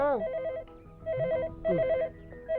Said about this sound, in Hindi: अरे फोन बज रहा है यार